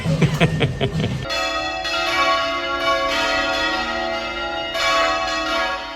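Church bells ring loudly and steadily in Panama City, their rich overlapping tones sustaining and swelling after a brief bit of clattering at the start.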